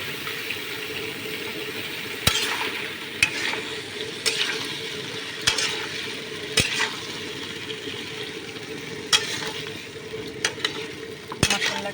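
Jackfruit curry sizzling and bubbling in a pan while a spoon stirs it, a steady wet fizz under sharp, occasional knocks of the spoon against the pan, close by, with no voices.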